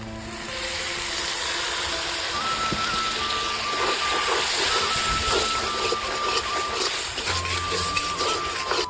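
Water hits frying spice paste in a pan and the paste sizzles with a continuous, loud, close hiss that runs unbroken throughout, no one speaking.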